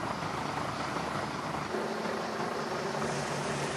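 Rescue helicopter over the Aquitaine coast, a faint, steady rotor and engine rumble heard from a distance under broad wind-like noise.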